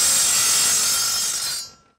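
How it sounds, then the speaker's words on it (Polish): A harsh, steady high-pitched grinding roar of an angle grinder with a concrete-cutting disc cutting decorative facade stone tile, heard alone, then quickly dying away near the end. "Najlepiej zrobić to szlifierką z tarczą do cięcia betonu."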